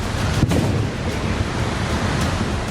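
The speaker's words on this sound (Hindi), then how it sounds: "जहां नदी अपने शबाब पर है। कल कल की जगह डरावनी आवाज सुनाई दे रही है।" A flood-swollen river roars through Kullu in Himachal Pradesh during the monsoon, a dense, unbroken rushing wash loud and close, with a sharp splash or knock early on.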